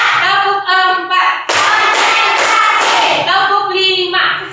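Children clap their hands in a counting clap routine, a burst of rapid group claps in the middle set between chanted voices, loud and close.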